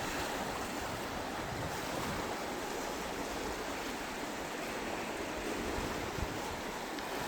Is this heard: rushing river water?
yes